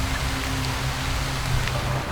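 Steady, dense rain hisses without pause in Bhutan, a heavy downpour drumming on surfaces including an avocado tree.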